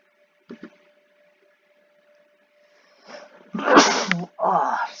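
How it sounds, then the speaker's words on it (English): A single sharp sneeze from a man, with a short sniff or intake beforehand and a brief vocal sound right after, indoors and close. "Excuse me, just sneezed."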